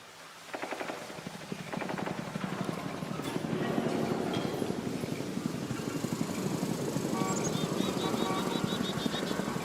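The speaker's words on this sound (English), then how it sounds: "this is what the distant ambient helicopter sounds like in Warframe 1999" Distant ambient helicopter from the video game Warframe 1999, built with analog sound design and a layered noise sweep: a steady, pulsing rotor-like chop over a wash of hiss that gradually swells and holds.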